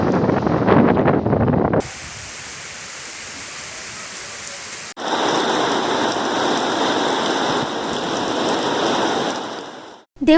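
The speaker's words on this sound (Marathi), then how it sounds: "देवगड तालुक्यात विजेच्या गडगडाटासह मुसळधार पाऊस पडला" Heavy rain falling during a thunderstorm in Devgad taluka, Konkan, a steady loud wash of downpour that shifts in intensity partway through, with no voices.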